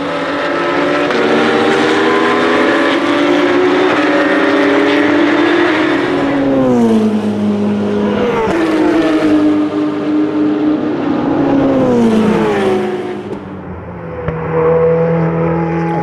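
Ferrari and other race cars at full speed around the Dijon-Prenois circuit, engines loud and close with rising and falling pitch as they pass, shifting gears, continuous roar throughout.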